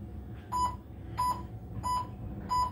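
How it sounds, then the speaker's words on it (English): Short electronic beeps repeat four times at a steady pace, roughly every 0.7 seconds, over a low hum from a model train layout powering a 1987 Lionel Conrail SD-40 dual-motor locomotive on the track. "let me try to stop that beeping"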